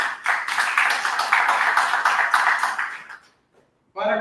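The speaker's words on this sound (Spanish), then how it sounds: "Le damos un fuerte aplauso, por favor." Audience applause at an art forum event on modern art from Honduras and Nicaragua: a dense burst of clapping lasting about three seconds, then fading to silence before a voice starts speaking.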